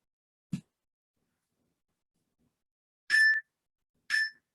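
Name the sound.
short workout timer beeps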